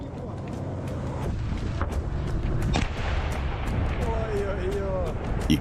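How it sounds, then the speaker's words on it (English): A tank shell booms in a video game, one heavy blast rising out of rumbling engine and battlefield noise while people talk over it. "Fire one more shell and roll back."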